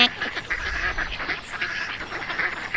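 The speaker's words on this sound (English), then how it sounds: "Dottie quacks and quacks till Quincy's head hurts." Ducks or geese quacking and honking in a park, a busy, steady run of calls at moderate distance with no speech.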